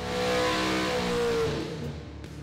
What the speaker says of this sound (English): This is a purpose-built race engine with high compression